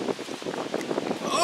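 Strong outdoor wind gust buffeting the microphone with a broad, rumbling rush that swells and surges unevenly over a second and a half, a voice faintly mixed in underneath.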